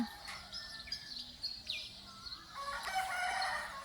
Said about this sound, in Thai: เสียงธรรมชาติเสียงไก่